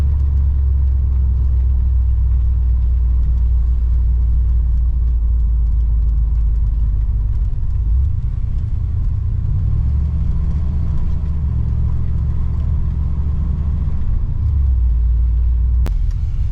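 A 1964 Oldsmobile 98 engine runs warm at a high idle, a steady, close, deep rumble that holds evenly throughout.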